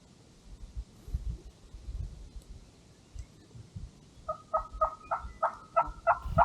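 Wild turkeys gobble in quick repeated bursts during Pennsylvania spring turkey hunting, the rattling calls coming close together over the second half after a quieter stretch of outdoor pasture ambience.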